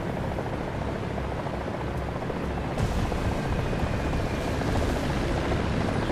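Helicopter in the War Thunder video game, a steady dense rotor and engine roar that fills the whole stretch at constant loudness with no pauses.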